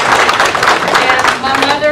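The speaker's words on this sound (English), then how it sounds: "everybody give him a round of applause." Audience at a children's show giving a round of applause, a steady dense patter of clapping from many hands that fills the moment, with voices mixed in.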